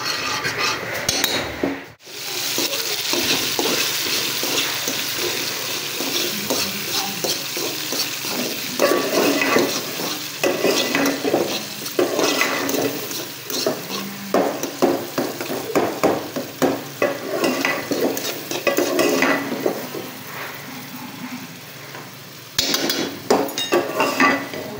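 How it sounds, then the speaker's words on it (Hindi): Garlic fries in a pan with a continuous soft sizzle, while a utensil stirs and scrapes against the metal in frequent clinks and knocks throughout. "अब मैंने लहसुन ऐड कर दी है, बस इसको हल्का सा फ्राई करेंगे"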